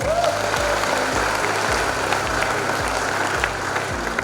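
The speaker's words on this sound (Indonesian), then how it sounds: "Tepuk tangan buat kita semua." An audience at a university basic training event (Diksar) gives steady applause, a dense, even wash of clapping over a rhythmic low background beat.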